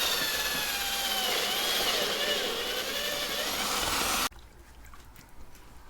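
A power tool running at low speed cleans rust and corrosion off wheel mounting surfaces, giving a steady, close whining grind for about four seconds before it cuts off abruptly into quiet shop ambience.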